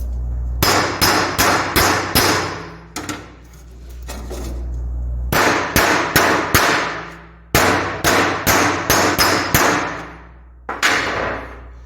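Sharp metallic hammer blows straighten bent metal parts from a 1995 Honda Foreman 400 ATV, landing in quick bursts of four or five strikes, separated by pauses with a low rumble beneath, close and loud.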